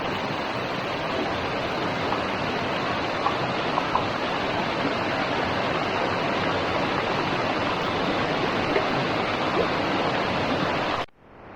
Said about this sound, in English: So right there is the waterfall